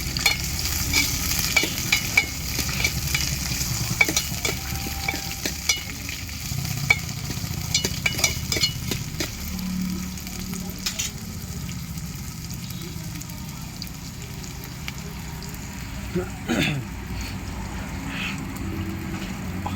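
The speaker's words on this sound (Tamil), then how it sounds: "ஆனியனை நல்லா வதக்கிக்கணும்." Onions fry in a pan over a wood-fired stove, giving a steady sizzle throughout, with scraping and clinking from a spoon stirring them at irregular moments.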